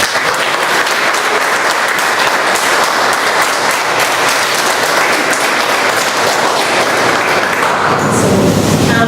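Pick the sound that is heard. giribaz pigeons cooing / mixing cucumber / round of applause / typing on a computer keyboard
round of applause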